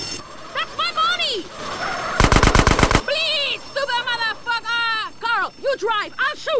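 Rapid machine gun fire from the video game GTA San Andreas rips out in one loud burst of about a second, amid squealing tyres, car noise and shouted in-game dialogue.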